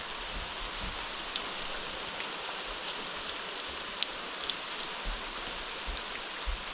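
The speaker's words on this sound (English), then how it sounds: "And it wasn't even supposed to rain today." Steady rain pours over an excavation site, a constant close hiss of drops hitting the ground with occasional sharper splats and no voices.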